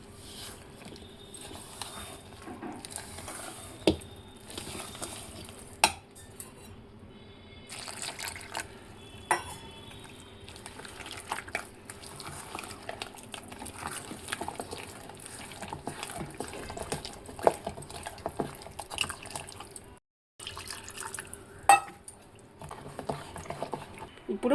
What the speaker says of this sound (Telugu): ఇప్పుడు ఈ పిండిని అన్నీ కలిసేటట్టు కలుపుకోవాలి. ఇప్పుడు కొంచెం కొంచెంగా నీళ్ళు పోసుకుంటూ